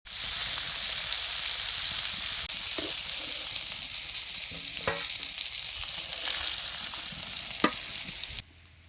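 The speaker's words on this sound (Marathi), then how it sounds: "राहिलेलं मासे बी तळून घ्यायचं. तेलात मासा टाकल्यावर लगेच खालवर करायचं नाही," Fish frying in hot oil for a fish curry, a loud steady sizzle with intermittent stirring scrapes and clicks, close by and without talk, cutting off near the end.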